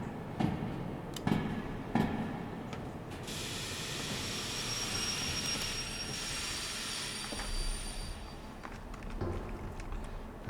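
A train in the Derail Valley game begins to move, with clanks and ratcheting knocks, a rising hiss and a low rolling rumble. The sounds stay at moderate loudness throughout, and no one talks over them.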